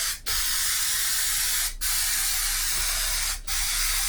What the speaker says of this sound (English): Let me go ahead and get some spray here.